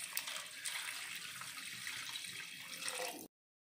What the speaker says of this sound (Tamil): 2 கப் தண்ணி ஆட் பண்ணிக்கலாம்.